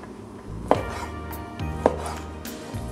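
A knife slices raw chicken thinly for a stir fry, with three crisp, close cuts against a board spaced about a second apart under a low kitchen background, with no talk.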